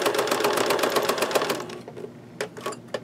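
A sewing machine runs in a fast, steady stitching burst through a canvas journal cover, then slows and stops, followed by a few short separate stitch pulses close by.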